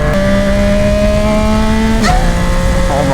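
A Yamaha R9 motorcycle fitted with a Dominator exhaust accelerates hard, its engine note climbing through the gear, then dropping sharply on a quick-shifted upshift before rising again. It is loud and close.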